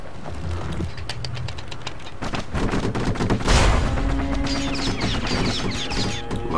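Power shot attack firing in the video game Bastion: a rapid burst of gunfire-like shots building to a loud, heavy blast near the middle, followed by ringing chimes and lighter effects.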